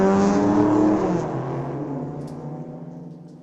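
An Acura race car accelerates hard at a junior drag race, its loud engine note climbing steadily in pitch before fading slightly as it pulls away, with no talk over it.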